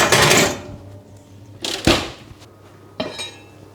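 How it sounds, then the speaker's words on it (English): A dish of German Rouladen is slid back into the oven with three separate clanks of metal and ceramic, each one sharp and close, with quieter rattles in between. "I'll put it back in the oven."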